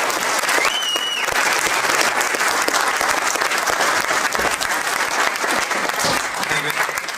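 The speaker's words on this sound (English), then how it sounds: "nice round of applause please for Caoimhin Agyarko." A crowd at a boxing press conference bursts into sustained applause, loud dense clapping with scattered cheers that carries on throughout.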